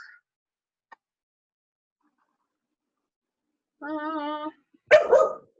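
A dog gives a drawn-out, whining bark followed by a sharp, loud bark, against near silence indoors during a Zoom meeting.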